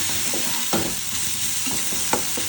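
A ground paste of whole garam masala, ginger, garlic and dried red chili frying in a pan hisses steadily, punctuated by several sharp spatula strokes and stirs close by.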